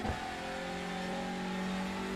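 A TCR touring car engine accelerating in the iRacing sim at Watkins Glen, a loud, steady, close-up drone with a slight rising pitch and no talk.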